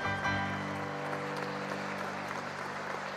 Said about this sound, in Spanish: Un aplauso al maestro Sandoval también